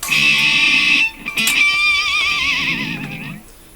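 An electric guitar screams a high, wavering whammy-bar dive bomb, pauses, then wobbles downward again with a neighing, horse-like warble, played slow then speeding up on the way down.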